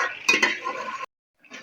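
Pumpkin and chicken are stirred in a metal kadai, with a spoon scraping and clinking against the pan in two sharp knocks, then a short scrape before a brief silence and a final scrape.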